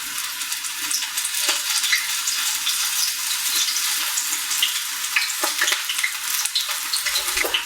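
Spoonfuls of onion pakoda batter fry in hot oil, giving a continuous loud sizzle and crackle with scattered pops and bubbling throughout, with no voices.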